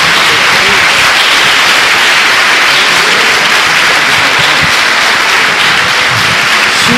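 Dense, loud applause from a church congregation clapping for Jesus, steady and continuous with a broad wash of hand claps and crowd noise throughout.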